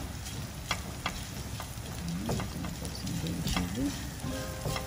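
Green chili frying in a pan for poha, a steady close sizzle with occasional stirring clicks, while someone talks over it.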